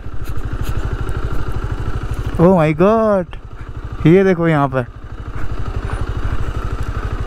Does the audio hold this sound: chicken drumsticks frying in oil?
no